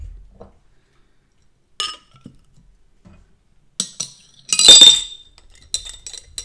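A glass lid clinks against a large glass cup in several sharp, bright taps and rattles separated by silence, with one louder cluster of clinks near the end.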